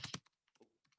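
Several quick keystrokes on a computer keyboard, close and crisp, in an uneven burst of clicks with short gaps between them.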